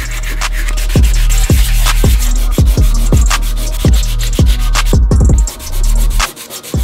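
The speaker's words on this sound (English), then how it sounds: "Give it a sand." Oak dovetail joint being hand-sanded in a garden workshop, a close, steady rubbing scrape with quick repeated strokes and light knocks, with no voices.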